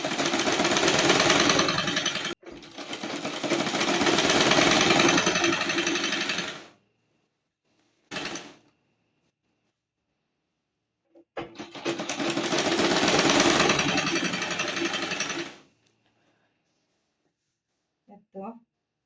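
A sewing machine runs loud and close while stitching a long seam on a churidar salwar, with two sustained runs of rapid mechanical whirring, a brief burst between them, and short stops in near silence.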